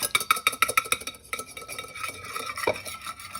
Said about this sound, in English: I'm going to whisk those together.